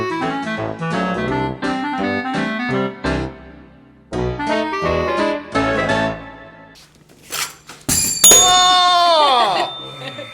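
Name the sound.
quiz show contestant ring-in bell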